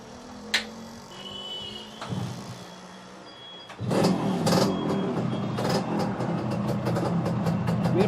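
A Bajaj KB100 motorcycle sits quiet at first with a few clicks and a short mechanical whir, then its engine starts and runs with a loud, steady close idle and a slight rise in revs.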